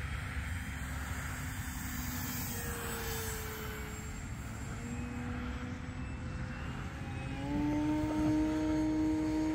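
E-flite Extra 300 RC airplane flying on a calm day, its electric motor whining steadily overhead and rising to a louder, higher-pitched tone near the end as the throttle opens, with no voices.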